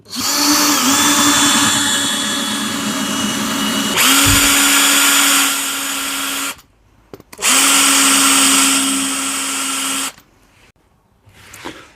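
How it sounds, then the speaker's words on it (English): A power drill whirs in two long bursts, each running a few seconds at steady pitch, with brief quiet gaps between, close and loud, pre-drilling screw holes in wood. "Just going to pre-drill some holes for the screw so I don't split the wood"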